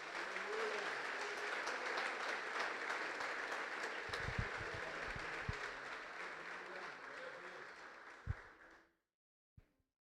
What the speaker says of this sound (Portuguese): Dê uma linda salva de palmas para o Senhor.